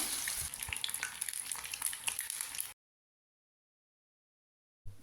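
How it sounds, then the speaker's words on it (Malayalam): Batter-coated eggs dropped into hot oil for egg bajji, with curry leaves and green chillies already in the pan, crackle and sizzle steadily for under three seconds, then the sound cuts to silence before a brief return at the end. "ഇനി നമുക്ക് മുട്ട മാവിൽ മുക്കി ഓരോന്നായിട്ട് ഇട്ട് കൊടുക്കാം."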